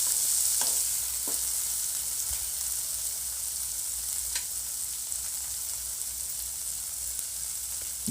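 A chopped large tomato frying in a pan for chicken tikka gravy, hissing with a steady bright sizzle throughout, broken by a few soft scrapes and taps of stirring, close and unaccompanied by talk.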